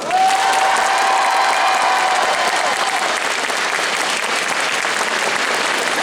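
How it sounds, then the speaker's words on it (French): An audience applauds the jury at the Necronomicon 2022 festival presentation, loud continuous clapping from a crowd with a thin whistle-like tone near the start. "Est-ce que tu peux applaudir aussi, s'il te plaît?"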